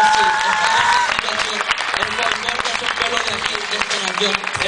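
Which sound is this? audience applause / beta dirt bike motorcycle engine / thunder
audience applause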